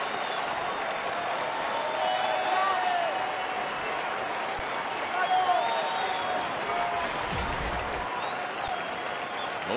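A crowd of more than 41,000 baseball fans at a Tigers home game against Arizona roars in a broad, sustained wash of cheering and clapping, with an announcer's voice faintly over the noise.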